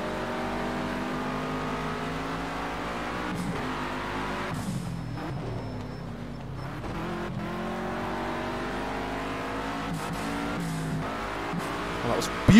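A race car engine in Project Cars 2 revs and drops in pitch under braking and downshifts, with a steady loud roar throughout and someone talking over it.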